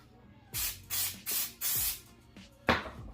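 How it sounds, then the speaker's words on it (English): An aerosol can sprays in four quick bursts followed by two shorter ones while a Subaru WRX's A-pillars are wrapped in suede, the hissing loud and close against a quiet background. "Spray some more down here."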